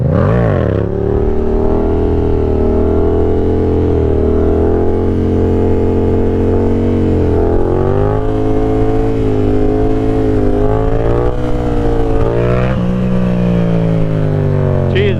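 A Yamaha FZ-07 motorcycle revs loudly and steadily while doing sit-down wheelies, its engine pitch rising and falling through repeated throttle pulls at close range over the whole stretch.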